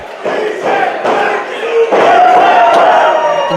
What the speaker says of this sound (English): Hear this crowd here at 1720